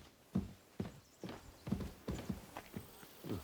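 Horse hooves clip-clop at a steady walking pace in the medieval game Kingdom Come: Deliverance 2, about eight distinct, fairly close thuds spaced evenly, with no talk over them.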